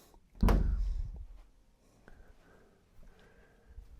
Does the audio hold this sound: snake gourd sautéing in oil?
no